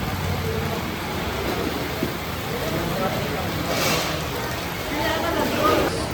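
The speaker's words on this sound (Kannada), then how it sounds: "ಮಳೆ ಜೋರಾಗಿ ಬರ್ತಾಯಿದೆ" Steady rain falls heavily during a motorcycle ride from Bangalore to Thiruvannamalai, a dense continuous hiss with faint voices somewhere in the background.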